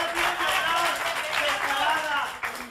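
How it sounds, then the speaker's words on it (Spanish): Studio audience applauding on a Spanish-language talk show, a steady, dense wash of clapping that lasts throughout, with voices talking over it. "Un aplauso para ella,"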